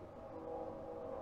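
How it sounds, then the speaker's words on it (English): A train rumbles steadily in the distance, a low continuous drone with a faint sustained tone riding above it, fairly quiet and unbroken. "Tell me that you can definitely hear"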